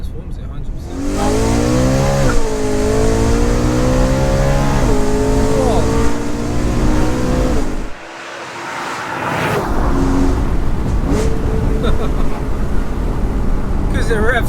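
A BMW M3 on an Evolve tune revs high and loud, engine pitch sweeping up and down in long pulls, dropping off briefly partway through before surging again, with someone talking over it.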